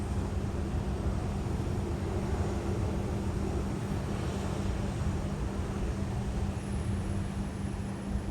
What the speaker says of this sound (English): Right now we're going to start off with a Delta 737-900ER heading to Atlanta.